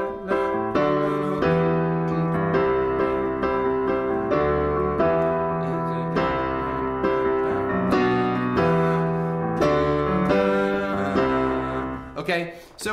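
A piano plays the short three-chord refrain of a pop song, steady rhythmic chords repeating for about twelve seconds, close and alone without any talking.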